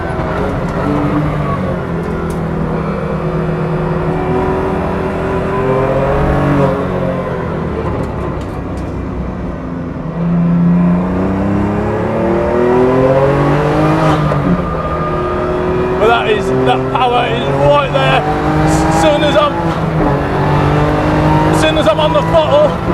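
A 510bhp BMW M2 Competition laps the Silverstone GP circuit, its engine droning steadily and rising and falling in pitch through gear changes, with a loud engine note that stays continuous under someone talking inside.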